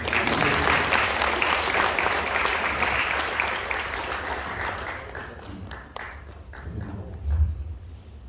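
Many people clap at a student music awards ceremony, a sustained ripple of applause that gradually thins and softens, with scattered individual claps and a low bump near the end.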